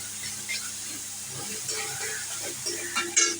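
Spice paste with a little salt and sugar sizzles and hisses in a pan for banana flower curry with chickpeas, with stirring and scraping strokes that grow louder toward the end.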